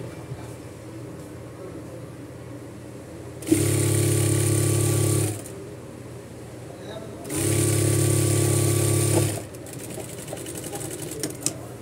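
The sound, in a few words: sewing machine stitching doubled fabric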